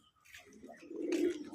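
Domestic pigeons on a pigeon farm give a soft, short coo that rises into a fuller throaty note, close by and quiet, with no other voices.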